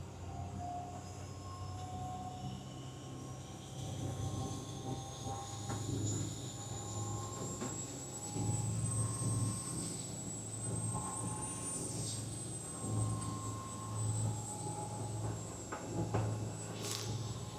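A Cummins diesel engine aboard a boat running at 2200 RPM, a faint, steady low drone with a rising whine above it, heard from a distance.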